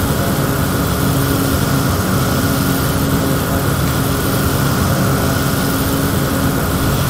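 An Extra 350 aerobatic propeller plane flying in the X-Plane 11 flight simulator gives off a loud, steady engine and propeller drone that stays constant from start to finish, with no voices.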